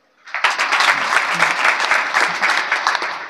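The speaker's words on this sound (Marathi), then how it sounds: "आपण एकदा सर्वांनी जोरदार टाळी वाजवा बरं" An audience at a kirtan (devotional discourse) claps loudly and continuously, dense applause starting abruptly and holding steady throughout.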